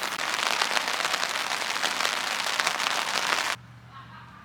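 Rain pours during a forest hike as a dense, even hiss for about three and a half seconds. It then cuts off abruptly to near quiet with a faint low hum.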